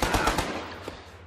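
Gunfire in the video game Achtung! Cthulhu Tactics: a quick burst of several sharp shots fired close, followed by a fading echo.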